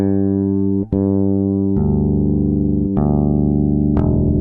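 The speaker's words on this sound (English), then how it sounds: "if we didn't do that, the open strings would blend into each other" Bass guitar open strings sustain and overlap, each new note ringing on top of the previous ones into a thick, muddy wash of sound.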